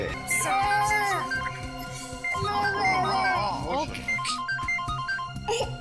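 A phone rings with a warbling electronic tone, repeating in bursts, with music and other sounds mixed beneath.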